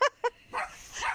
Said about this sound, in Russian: Наш лает.